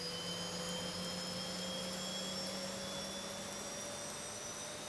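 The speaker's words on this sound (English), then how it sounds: "fuel is coming up for engine number 2" Boeing 737-800 jet engine spooling up during start in the X-Plane 12 flight simulator, a steady loud whine with rising tones over a constant roar throughout, no talking.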